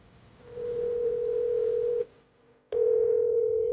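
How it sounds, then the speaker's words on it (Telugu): An outgoing phone call rings back in two long, steady tones separated by a brief silence, loud and clear with no voices. "రింగ్ అవుతూనే ఉంది, ఆన్సర్ చేయట్లేదు."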